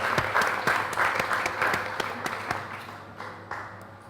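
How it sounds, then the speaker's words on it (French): Warm audience applause at an indoor conference on food and digital content creators: steady clapping from a modest crowd that thins after a few seconds into scattered individual claps. "Sous les applaudissements chaleureux."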